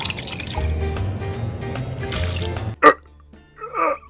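Water poured into a pot of canned cheddar cheese soup, a short liquid pour and splash followed by a brief gurgling, fairly close and alone.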